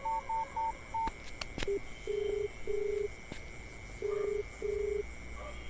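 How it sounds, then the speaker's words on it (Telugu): A telephone number is dialed as a run of short keypad tones: four quick beeps, then a pause and a slower series of longer tones, with faint clicks in a quiet room and no talking. "నేను తనకి ఇప్పుడే ఫోన్ చేస్తాను"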